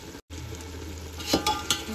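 Chicken biryani mixture with mint leaves and coriander stirred in a pot: a soft scraping stir, briefly interrupted, then a few light utensil clinks against the pan, with no talking.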